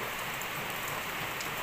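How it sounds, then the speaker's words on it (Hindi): Heavy rain falls steadily in a dense, even patter on surfaces, a continuous moderate wash with no pauses and no voices. "क्योंकि बारिश हो रही काफ़ी तेज़"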